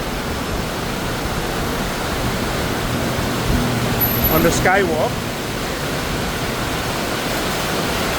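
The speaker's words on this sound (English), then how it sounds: "This is really an extremely heavy rain that we have now." Extremely heavy monsoon rain pours steadily in Bangkok near a skywalk, a dense, loud, unbroken hiss. A voice speaks briefly over it and a short chirp-like sound passes partway through.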